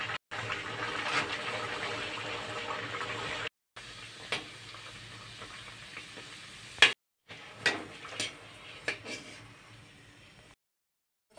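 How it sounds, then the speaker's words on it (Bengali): Green peas kachori fry in hot oil, giving a steady close sizzle that stops and restarts several times, with light clinks and bumps from the pan or utensils. "সবগুলো কচুরি কিন্তু ভাজা প্রায় হয়ে গেছে।"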